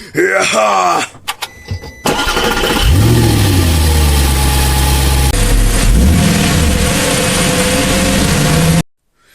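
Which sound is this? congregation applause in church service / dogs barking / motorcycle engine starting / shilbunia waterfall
motorcycle engine starting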